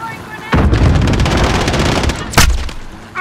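Video game gunfire in a shooter played on an MSI RTX 3070 Gaming Trio, a loud sustained burst of rapid automatic shots with a heavier blast partway through, close and dense.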